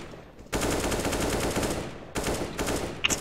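Rapid bursts of gunshots in a first-person shooter video game, loud and close, with a short gap before another burst and a sharp final shot.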